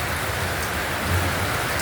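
Rain falls in a steady, dense patter on surfaces nearby, a brief uniform wash of drops with no voices.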